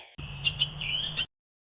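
A cartoon crow singing in an animated Tamil fable, a short bright warbling call with a few rising chirps over a steady low hum, close and clear, ending abruptly.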